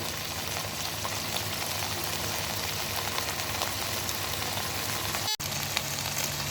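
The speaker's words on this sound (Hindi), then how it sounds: "इसी तरह 2 मिनट में इस साइड से पकाऊंगी।" Chicken malai tikka pieces fry steadily in a hot pan, a dense, even crackling sizzle running throughout at close range, with one brief sharp click near the end and no voices.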